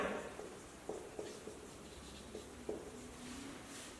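Chalk or a marker taps and scrapes in short, irregular strokes as a maths formula is written on a classroom board, close by and fairly quiet, with no talking.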